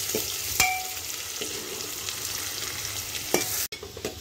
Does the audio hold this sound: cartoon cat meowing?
no